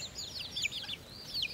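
Soft chicken calls from a free-ranging mother hen out with her chicks, a few light clucking and chirping notes that rise and fall over a steady outdoor background, fairly faint and somewhat distant.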